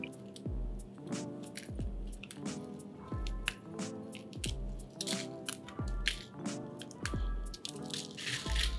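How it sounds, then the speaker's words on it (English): Stalks are snapped and pulled off dried Kashmiri chilies by hand, giving a run of close, crisp crackles and crunchy squishes with soft thuds, repeating roughly once a second, with no talking. "But for now, Kashmiri chilies. Let's remove the stalks off."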